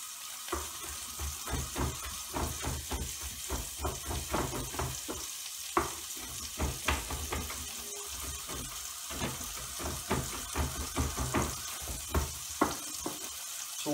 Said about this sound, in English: All the vegetables sauteing, and the garlic's going good, and the shallot.